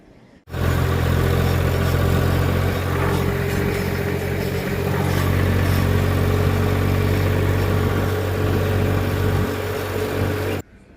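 A tractor engine idles steadily with a loud, low rumbling drone and a constant hum that runs unbroken from start to finish.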